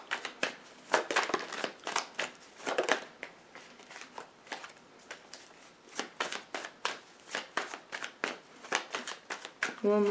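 Tarot cards being shuffled during a Capricorn astrology reading, a long run of crisp riffling bursts that come in quick repeated waves, close and fairly clear, with brief talk in between.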